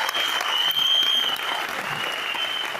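Sustained applause from a large crowd at an awards event in Mumbai, dense and steady clapping filling the space for a few seconds without pause.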